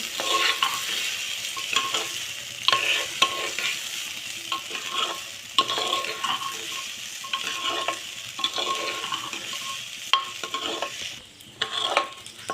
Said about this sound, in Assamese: চাউলখিনি অকণমান সময় মই ভাজি ল'ম।